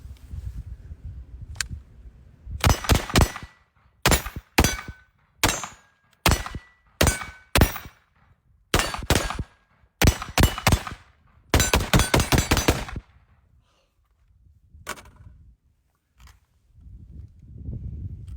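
Tavor X95 bullpup rifle firing outdoors, with sharp, loud shots in separate clusters and quick strings, with short silent gaps between bursts and a few fainter lone reports near the end.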